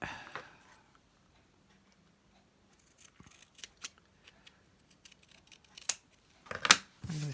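Scissors cutting folded paper into two pieces, a quiet pause followed by a run of small crisp snips and ticks that grow louder toward the end, close and alone.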